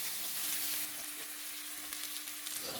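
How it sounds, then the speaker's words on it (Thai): Thick slices of pork belly sizzle steadily in hot oil in a wok, frying until golden on both sides and rendering out their fat; a continuous close hiss with no talking. "กลิวให้พอเหลืองๆทั้งสองด้านเลยนะครับ สังเกตว่าน้ำมันเขาจะออกมานะครับ"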